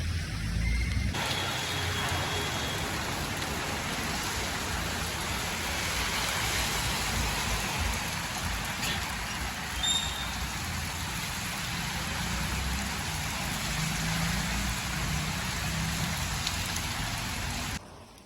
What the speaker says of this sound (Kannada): ಅದಕ್ಕೆ ನೋಡ್ರಿ ಮಳೆ ಬರತೈತಿ